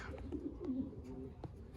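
Racing pigeons coo softly at their loft after a one-loft race, with several low, rounded coos repeating at a faint, fairly close level and no talking.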